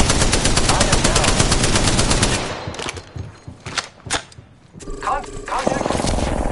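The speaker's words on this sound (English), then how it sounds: "These are shooting at me." Rapid automatic gunfire in a video game firefight, loud and continuous for the first few seconds, then breaking into scattered bursts and single shots amid other game effects.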